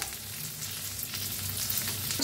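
Tomatoes and peas fry steadily in a pan for a masala dosa filling, a continuous close sizzle with faint stirring and a brief clink at the end.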